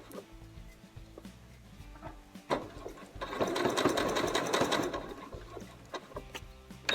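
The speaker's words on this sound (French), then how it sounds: "nous allons coudre à distance de 5 mm" A sewing machine stitches a T-shirt neckline seam 5 mm from the edge, starting with short stop-start bursts and then settling into a louder, sustained run before slowing again, close by.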